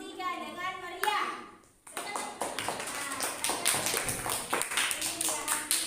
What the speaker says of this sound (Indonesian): Berikan tepuk tangan untuk kelompok 3 dengan meriah